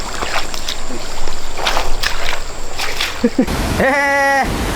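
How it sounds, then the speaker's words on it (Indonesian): Water trickles and splashes continuously in an outdoor garden setting, with a brief harmonic tone near the end. "masih banyak sekali tanaman-tanaman, kemudian suara gemericik air."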